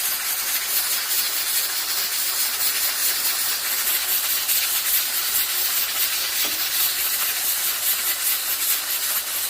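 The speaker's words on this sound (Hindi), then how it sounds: "मैं चने जो है प्रेशर कुकर में ही पकाती हूँ।" A pressure cooker full of chickpeas hisses with a loud, continuous rush of escaping steam, close and steady throughout with no voices.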